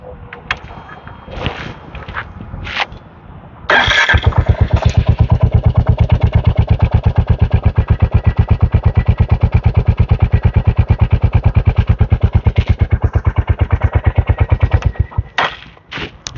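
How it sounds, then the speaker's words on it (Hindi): A Royal Enfield Hunter 350 motorcycle engine cranks and fires up, then settles into a loud, rapid, evenly thumping exhaust idle close by before cutting off. "मैं एक बार आपको स्टार्ट करके भी दिखाता हूँ इस बाइक को।"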